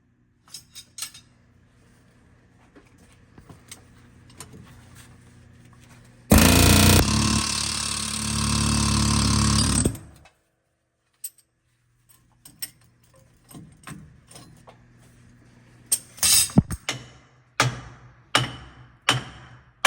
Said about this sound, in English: Try the air hammer.